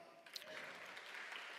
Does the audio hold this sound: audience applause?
yes